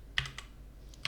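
Typing code on a computer keyboard, a few quiet, sparse key clicks at an irregular pace in a quiet room.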